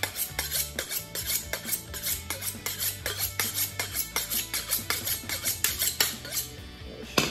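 A kitchen knife being sharpened before cutting thick salmon skin, a rapid run of rhythmic scraping strokes, close and steady, repeating about three times a second with no talking.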